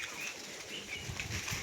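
Pigeons beat their wings in flight, a short burst of close, fluttering flaps with no voices over it.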